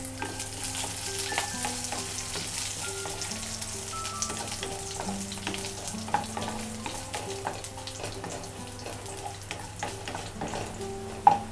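Garlic slices, dried red chilies and curry leaves sizzle in hot oil, a soft steady frying hiss with occasional clinks and stirs of a utensil against the pan.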